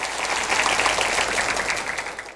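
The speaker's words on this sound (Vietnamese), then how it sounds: "Một tràng vỗ tay thưa quý vị." Dense, steady applause from a theater audience at a Vietnamese cải lương singing competition, many hands clapping together in a loud, even wash that holds throughout.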